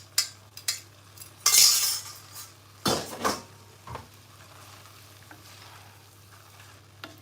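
Spaghetti stirred in a metal pot, with irregular clanks and scrapes of a utensil against the pot, a couple of louder bursts early on, then quieter occasional knocks, no voices.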